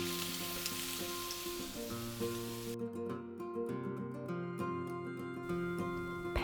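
Bacon sizzling and frying in a pan as a simple breakfast is made, a steady crackling hiss throughout with soft musical tones layered over it, no speech.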